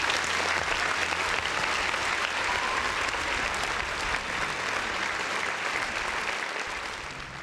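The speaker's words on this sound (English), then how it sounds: "Listen, another round of applause for the folks in the chat." Continuous crowd applause, a thick even wash of many hands clapping at steady loudness for the whole stretch, easing off a little at the close with no voices on top.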